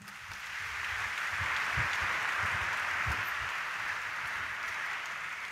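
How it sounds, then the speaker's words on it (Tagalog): Church congregation at a Sunday Mass at Quiapo Church breaking into applause, a steady, distant wash of many hands swelling in and holding evenly, with no voices over it. "iparinig natin sa pamamagitan ng palakpak"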